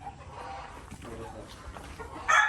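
Chickens cluck and murmur on a small Filipino backyard farm kept by its owner, with a rooster and two hens nearby, soft continuous fowl sounds and a brief louder squawk near the end, mixed with faint background voices.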